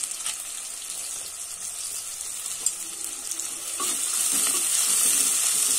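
Onions fry in a pan for street-style veg chow mein, giving a steady, close sizzle that grows louder toward the end, with faint stirring clinks.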